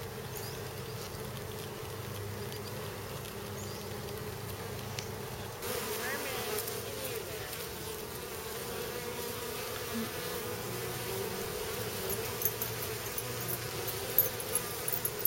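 Honeybees clustered in a bee beard, packing orange pollen, make a dense, continuous close-up buzz that stays steady and busy throughout.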